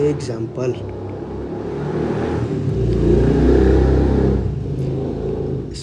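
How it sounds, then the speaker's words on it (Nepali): A motorbike engine revs and rumbles nearby, swelling louder and then easing off, while a person keeps talking over it. "कस्तो बाइक चलाउँछन् यहाँ"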